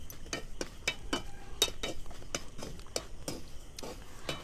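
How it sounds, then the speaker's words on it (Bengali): A utensil stirs and scrapes puchka being dry-fried in salt without oil, giving a series of sharp, irregular clinks and gritty scrapes over a faint sizzle, close and moderately loud. "এবার এইভাবে করে একটু নেড়ে চেড়ে ভেজে নিতে হবে।"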